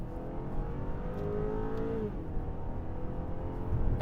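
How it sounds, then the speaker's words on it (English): A 2022 BMW X4 xDrive with the sport handling package accelerates, its engine droning steadily with a brief rising pitch before settling, heard from inside the car. "A little bit of turbo lag."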